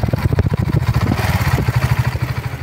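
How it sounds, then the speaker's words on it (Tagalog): Rusi 400cc motorcycle exhaust idling nearby with a loud, lumpy low putter that pulses steadily with no talking. "ito yung tunog ng kanyang muffler"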